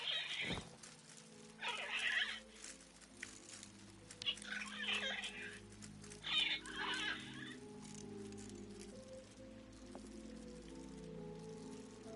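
Mechanical automaton birds in a video game making clucking, squawking calls in a few distinct bursts over quiet ambient background, fairly faint and with no one talking.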